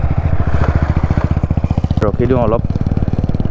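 A Yamaha R15 V3 motorcycle's exhaust thrums in a steady, loud idle with even low pulses throughout, while someone speaks briefly over it partway through.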